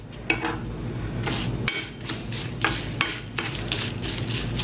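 Metal spoon stirring ground cumin into hot oil tempering in a pan for a Kannur-style koottu curry, with sharp scraping clinks over a low steady sizzle.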